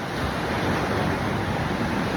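Morning sea surf washes onto the shore in a steady broadband rush, with wind buffeting the microphone and no clear breaks between the waves.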